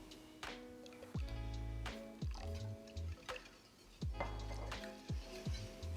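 Ali d'Oro liqueur, about a quarter cup, pours into a milk-and-bread pudding mixture in a series of close, repeated wet glugs and drips, with no talking.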